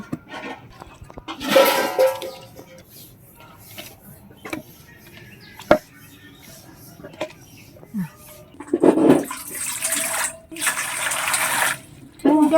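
Bata fish being rinsed in a basin of water, with scattered splashes and swishing bursts, the loudest near the end, over a quiet background of light handling noise.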